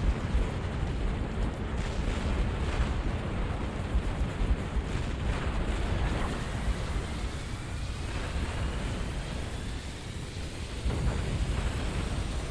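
Units in Halo Wars fire at a Scarab amid a dense, continuous roar of battle noise. Heavy rumbling blasts and booms run steadily for the whole stretch, with a brief dip before the noise swells again.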